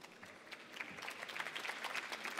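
Conference audience applauding, a dense patter of many hands clapping that starts moderately and builds steadily louder over a couple of seconds, with no speech over it.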